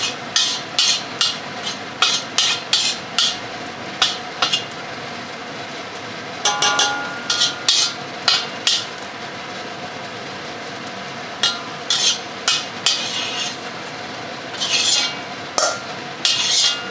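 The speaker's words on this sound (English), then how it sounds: "Mix sausages with caramelized onions and oil." Metal spatula scraping and clanking in a wok as sausages are tossed with caramelized onions and oil off the heat, with irregular sharp strikes and scrapes close by, some in quick bursts.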